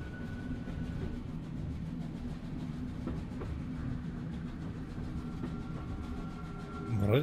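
A train wagon moves in The Room Three puzzle game, a steady low rumbling roll with faint rhythmic clacking that runs continuously for several seconds and swells slightly at the end.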